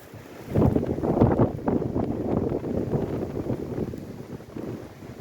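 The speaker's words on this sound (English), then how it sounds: "Ooh, that wind." Strong gusts buffet the microphone on a Talladega National Forest trail, a rough, rumbling roar that rises suddenly and then keeps rushing unevenly.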